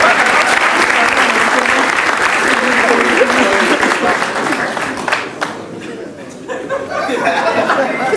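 A studio audience applauds loudly and steadily in dense, continuous clapping with scattered laughter and chatter mixed in; the applause thins slightly toward the end.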